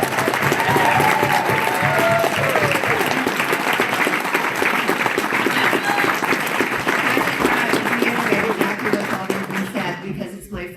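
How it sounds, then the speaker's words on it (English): Big round of applause from the audience at a My Little Pony convention voice actor panel, sustained dense clapping for about ten seconds with some talking faintly underneath before it tails off. "we can all give them a big round of applause"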